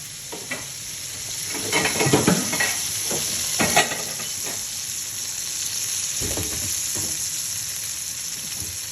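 Seasoned lamb chops cook in a pan with a continuous loud sizzle and hiss, broken by several scraping stirs and clinks of utensil against pan, with no voices.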